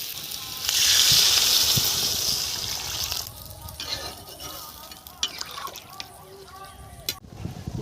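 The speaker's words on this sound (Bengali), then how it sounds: "এখন আমি জল ঢেলে দেবো।" Water poured into fried spice paste in a pan for a curry of country chicken eggs, starting with a loud hissing gush. It then fades to softer bubbling and scattered clinks while a voice talks over it.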